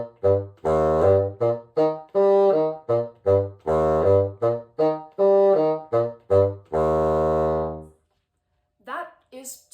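Bassoon plays the opening measures of a Michigan all-state etude with no shaping or phrasing, a close, loud series of detached and sustained notes in steady rhythm, ending in a long held note and then a few quiet trailing sounds.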